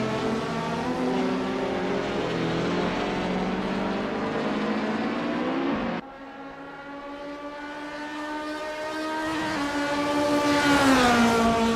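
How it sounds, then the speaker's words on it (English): Touring car engines in the Assetto Corsa sim at Mid Ohio roar loudly and steadily, pitch holding, then dropping abruptly before a second engine climbs in rising whine as it accelerates hard. "As the sun beats down and the engines roar, Nathan Vexler stakes a claim in first."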